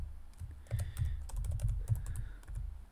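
Keys clatter on a computer keyboard in a quick, uneven run of close taps while a formula is entered in CAD software, with no voices.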